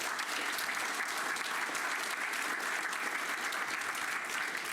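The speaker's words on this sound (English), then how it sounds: "I think they deserve a round of applause" Applause from an audience at a farmer welfare event, honoring the farmers: dense, steady clapping from many hands that holds even and loud for the whole stretch, with no voices rising above it.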